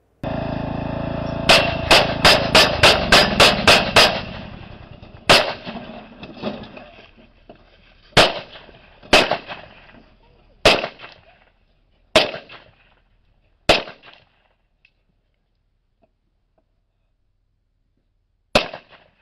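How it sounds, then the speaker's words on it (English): Gunfire in a recorded gunfight during a long-simmering argument: about sixteen sharp shots, first a rapid volley, then single shots spaced seconds apart and a final isolated shot, loud against near silence. "that was 16 total gunshots"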